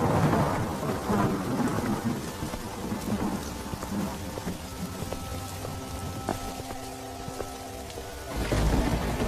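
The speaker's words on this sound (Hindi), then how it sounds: "तभी जोर जोर से बारिश शुरू हो जाती है।" Heavy rain pours steadily on a surface, with rumbling thunder rolling underneath and a louder burst near the end; no voices.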